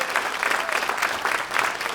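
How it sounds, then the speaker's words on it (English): An audience applauds at an elementary school ribbon cutting ceremony: a steady, dense round of clapping from many hands that holds for the full two seconds without pause. "So I really do think collectively they need a big round of applause"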